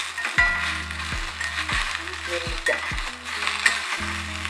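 Sliced okra sautéing in a pan for a tamarind kara kulambu, a loud steady sizzle broken by repeated scraping and knocking strokes of a spoon against the pan roughly every second.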